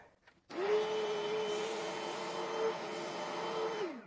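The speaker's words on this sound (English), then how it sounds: "I usually just spray the whole time while scrubbing and suctioning in one fell swoop." A Bissell Little Green carpet cleaner starts up abruptly and runs steadily while spraying and suctioning carpet, a loud close motor whine holding a constant pitch with a brief rise near the end.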